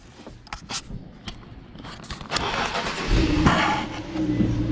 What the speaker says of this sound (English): The stock cold start. It's so quiet.